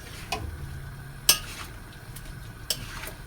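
Chayote sautéed in a pan for ginisang sayote with sotanghon is stirred, with three sharp utensil clinks and scrapes spaced over a low, steady sizzle, no one talking.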